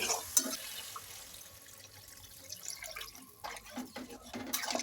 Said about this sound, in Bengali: সবজি কষানো হয়ে গেছে, দিয়ে দেবো জল।